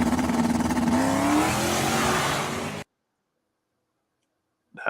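A half-track vehicle in the game Dig or Die revving hard while doing a wheelie, its engine note climbing in a loud, buzzing rise for under three seconds before cutting to silence, with a brief burst of sound returning at the end.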